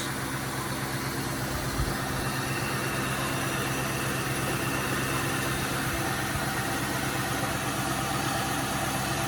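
A 2000 Cadillac DeVille limo's Northstar V8 idles with a steady, low rumble, continuous with even vibration and no change in pitch, close by and fairly loud throughout.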